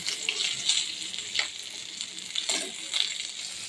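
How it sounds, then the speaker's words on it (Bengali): Fish shallow frying in hot oil for a fish curry, a constant bright sizzle with crackling bursts and spatters as pieces shift in the pan, close and fairly loud with no talk. "মাছটা একটু ভেজে নিই হালকা করে"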